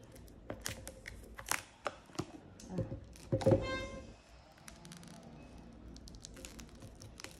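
Hands working open a boxed Marseille tarot deck without scissors: scattered close crinkles, taps and cardboard thunks, a brief louder tearing scrape in the middle, then quieter fiddling.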